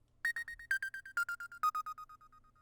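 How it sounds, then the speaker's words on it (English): Short, bright synth plucks repeat in a quick rhythmic run, each note trailed by delay echoes as the melody steps gradually downward. "a super short, like delayed pluck or lead"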